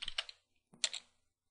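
Keys on a computer keyboard clack in two quick, close clusters of taps separated by a short pause, fairly quiet with nothing else heard.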